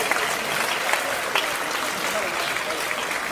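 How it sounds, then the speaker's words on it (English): An audience at a school culture celebration performance applauds the event organisers, a dense, steady wash of clapping that fills the whole stretch at even loudness, with some voices mixed in. "I would like to start by giving them a huge round of applause"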